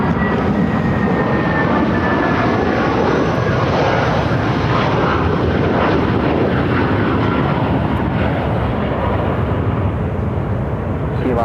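A Denver Air Connection Fairchild Metroliner turboprop at Phoenix airport drones loudly and steadily throughout, a broad engine roar with a faint high whine.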